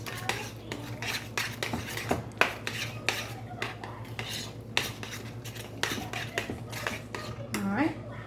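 Herbal meatloaf ingredients are stirred with a serving spoon in a bowl, making close, continuous scraping and clinking strokes in an irregular rhythm, with no talking.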